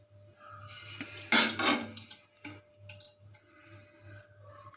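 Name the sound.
eating rice with potato curry from a plate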